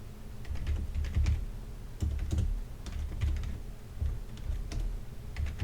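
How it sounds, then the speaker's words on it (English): Scala code being typed on a computer keyboard, close and quiet with irregular bursts of key clicks and brief pauses, no voices. "so I can type this directly into here"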